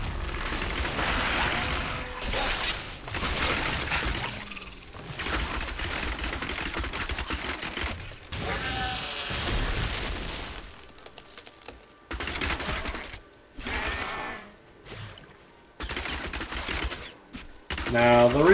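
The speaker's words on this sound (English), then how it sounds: "I just like hitting rapid fire." A Demon Hunter's rapid-fire attack in Diablo 3 makes a dense, rattling burst of repeated shots and impact effects, heard as continuous clattering bursts with short pauses, and someone talks over parts of it.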